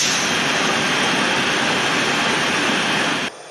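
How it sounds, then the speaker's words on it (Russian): Il-76 military transport aircraft jet engines roaring steadily and loudly at Ulyanovsk-Vostochny airfield, a dense, continuous broadband rumble and whine that holds for several seconds before dropping off sharply near the end. "Восьмой самолет Ил-76 военно-транспортной авиации с российскими миротворцами вылетел с аэродрома Ульяновск-Восточный."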